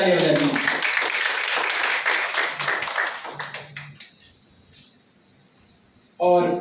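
An audience claps at a Bhojpuri studies poetry event at Banaras Hindu University, dense applause for several seconds that thins out and fades into near silence before a voice speaks again.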